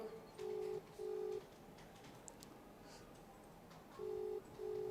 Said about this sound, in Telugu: ఇగో ఇంకా రింగ్ అవుతూనే ఉంది